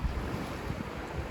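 Black Sea surf washes onto a beach in Sudak, Crimea, a short burst of rolling, hissing waves mixed with gusty wind buffeting the microphone.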